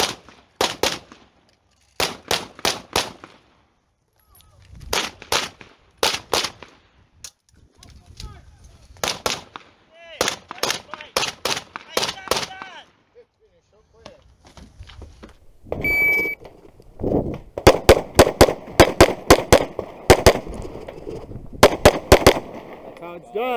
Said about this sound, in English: Nine major rounds are fucking loud.